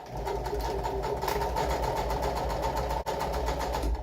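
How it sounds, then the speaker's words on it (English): A sewing machine runs a continuous top stitch, its needle hammering in a fast even rhythm, close and steady with one brief pause near the end. "So I'm gonna go ahead and stitch"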